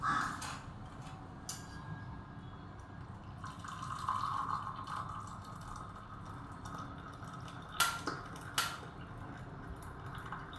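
Milky masala chai pours through a strainer, a soft, close trickle of liquid with a few light metallic clinks of the pot and strainer near the end.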